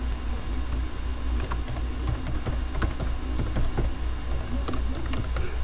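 Typing on a computer keyboard while coding in Visual Basic: close, light irregular key clicks in short clusters over a steady background hum, no talking.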